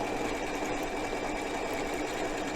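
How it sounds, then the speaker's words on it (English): A Continental M7 sewing machine stitches fabric with a steady, even mechanical whir and fast needle patter, moderately quiet and continuous, with no voices. "And now I can continue stitching."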